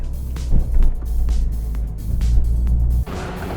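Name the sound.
Peugeot 208 GTI driving, manual gear changes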